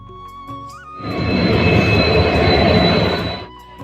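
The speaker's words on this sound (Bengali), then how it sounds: "ফাইনালি ট্রেন এসে পড়েছে।" A passenger train arrives at a station on the Sarupeta to Basugaon line with a loud, close, steady rumble. A high steady whine runs through it for a few seconds before the sound eases off.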